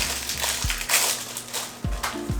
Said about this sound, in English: put the whole sleeve in the bag, and crush them up